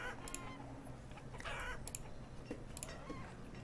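Chickens cluck in the colonial village-building game Banished, brief soft clucks and bird calls repeating over a low ambient game background, faint and distant, with no talk.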